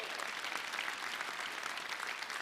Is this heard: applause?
yes